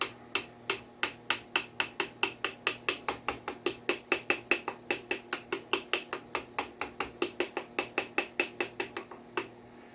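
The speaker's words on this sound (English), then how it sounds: "Before you start tapping on the top of that piston with the butt end of the hammer" The butt end of a hammer taps the top of a piston during a Toyota 3S-GTE engine rebuild: about forty sharp, even metallic taps in a steady rhythm, close and moderately quiet, with no talking.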